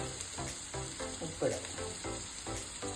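Bitter gourd frying in a pan for a salad, a steady close sizzle with faint bursts of crackle and soft scraping from stirring, with no voices.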